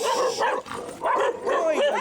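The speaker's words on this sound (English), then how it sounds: "He's a puppy." A puppy on a street in Shangri-La, China, barking and yipping in several short, close bursts with a whimpering edge, with a voice briefly mixed in.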